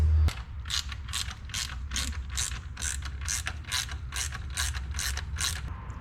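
A ratchet wrench turns a 15 mm nut on the back of a 200-amp alternator on a Foxbody Mustang, giving steady, evenly spaced clicks, about two per second, close and clear with no talking.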